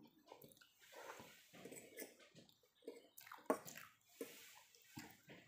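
Water runs and splashes steadily as in a shower or bath, with irregular sloshes and one sharper splash near the middle, close and moderately loud with no talking.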